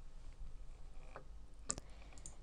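A single faint mouse click as the Snipping Tool icon is opened on a Windows PC, short and sharp against quiet room noise.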